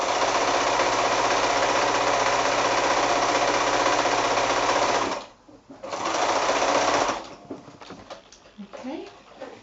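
A sewing machine stitches cloth book pages with a fast, continuous whirring rattle for about five seconds. It pauses briefly, runs again for a moment, then stops, leaving quiet handling sounds.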